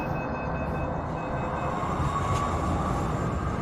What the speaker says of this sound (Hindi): इस बीच मेट्रो चल दी